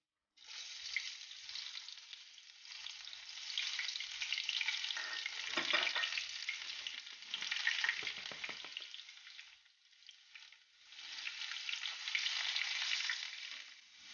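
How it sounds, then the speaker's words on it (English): Onion sizzling as it fries in hot oil, a steady loud hiss running throughout with stirring scrapes and brief dips, no voices, while plantain porridge is prepared. "The oil is already heating up, so I'm gonna add my onion right now"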